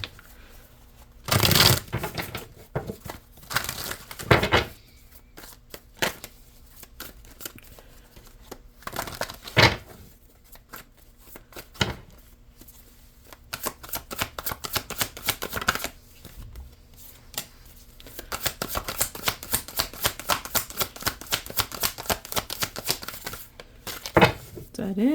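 Tarot cards being shuffled at a reading, with repeated bursts of riffling and flicking, some sparse and some long rapid runs, close and fairly loud; a voice talks faintly between the shuffles.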